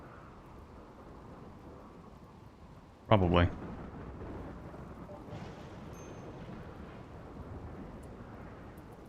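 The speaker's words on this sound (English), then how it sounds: "Besides, it's raining." Rain patters steadily in the video game RimWorld, broken by one sharp, loud thunderclap near the three-second mark, while someone talks over the storm.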